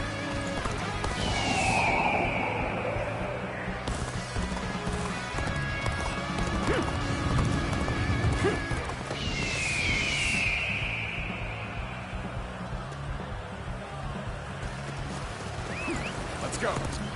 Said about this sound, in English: I keep jumping on my horse